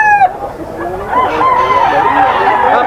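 Rooster crowing loud and close at a gamefowl market, one clear cock-a-doodle-doo that breaks into clucking and overlapping crows from other birds.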